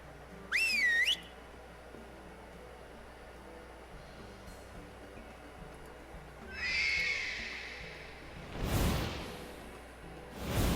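Two high, warbling whistle calls in the World of Warcraft video game, a short sharp one early and a longer swell later, separated by quiet stretches and followed by broad whooshing bursts.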